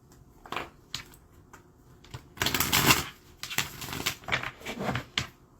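Tarot cards being shuffled by hand, heard as a few short riffling and rustling bursts of varying length close to the mic, with quiet pauses between them and no talking.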